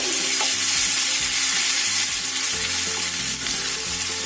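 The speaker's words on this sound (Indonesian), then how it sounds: "ini aku akan tambahkan bumbu yang sudah diulek halus. Kita tumis sampai tercium bau enak." Ground spice paste being stir-fried in a pan gives a continuous loud sizzle with scraping stirring strokes, heard without any talk.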